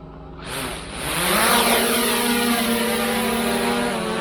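A DJI Air 2S drone spins up and lifts off nearby, its propeller whine rising sharply in pitch and loudness, then holding a steady, loud buzzing hum as it hovers.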